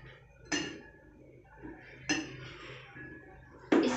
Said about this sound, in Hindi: इसको क्रश कर देंगे